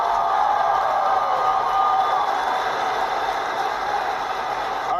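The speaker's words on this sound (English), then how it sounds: "Give him a round of applause." Large audience applauding and cheering in tribute to Charlie Kirk at a Turning Point USA event, a steady, dense wash of clapping and crowd noise held at constant loudness throughout.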